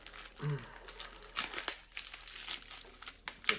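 A yellow postal package crinkles and crackles as it is handled up close, with irregular bursts of plastic rustling and a few sharper crunches, no talk.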